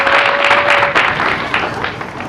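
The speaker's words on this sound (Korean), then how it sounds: "여러분 큰 환영의 박수 부탁드리겠습니다" A crowd at a Korean talk show event applauds to welcome a speaker, an honorary professor, onto the stage. The clapping is dense and sustained and close, with some crowd noise mixed in.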